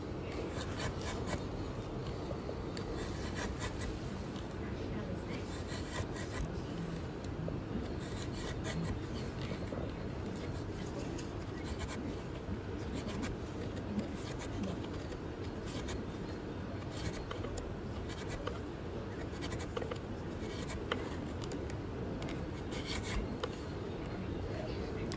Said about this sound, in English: I'm not cutting, I am splitting the wood like you split firewood